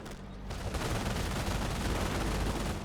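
A rocket barrage in a World War II strategy game pours down as a dense, loud roll of overlapping blasts and crackling impacts that keeps going for several seconds after a brief quieter start.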